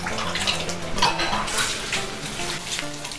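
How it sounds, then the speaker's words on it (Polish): Dishes being washed in a kitchen, clattering pots and cutlery mixed with running water and splashing, heard fairly close over faint background music. "Żeby nie marnować czasu, zajmę się naczyniami i je umyję."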